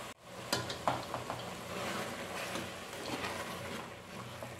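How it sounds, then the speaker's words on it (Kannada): Ground masala paste for sambar fries in a pan, giving a quiet, steady sizzle broken by a few soft scraping and stirring sounds, with no one speaking. "ಇವಾಗ ರುಬ್ಕೊಂಡಿರೋಂಥ ಮಸಾಲೆ ಹಾಕೋತಾ ಇದ್ದೀನಿ. ಸ್ವಲ್ಪ ಫ್ರೈ ಮಾಡ್ಕೋಬೇಕು."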